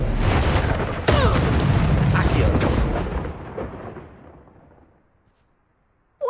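Bombarda spell explosions in the Hogwarts Legacy video game: a dense, loud burst of booms and crackling blasts that rolls on for about three seconds, then fades into a decaying rumble and near silence before a sharp new hit at the end.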